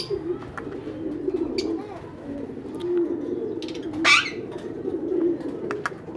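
Pet parrots in a breeding setup make soft coos and chirps while being fed fried egg with bread, with one sharp squawk midway over a low background hum.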